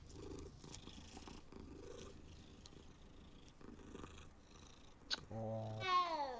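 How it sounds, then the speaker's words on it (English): A cat purrs softly in the Hogwarts Legacy video game, a low continuous rumble under faint game ambience, followed by a brief higher meow-like tone near the end. "Kitty cat."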